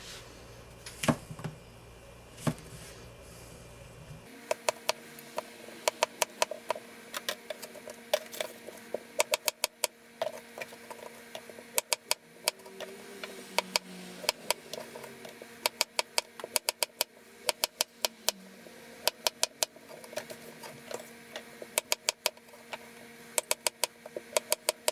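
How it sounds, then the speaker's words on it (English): A knife slices mushrooms on a board in quick, sharp, evenly spaced taps, close and fairly faint, running steadily over a low background hum. "slice the mushrooms"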